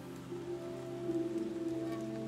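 Rain falling in a soft, continuous patter over a steady low hum, gentle and even throughout with no voices.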